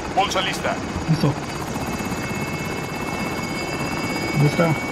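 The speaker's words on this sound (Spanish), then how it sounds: "Helicóptero en posición para tu depósito." Helicopter rotor drone in the Call of Duty: Modern Warfare video game, a steady mid-distance whir running through the whole moment beneath game effects and brief voice chatter.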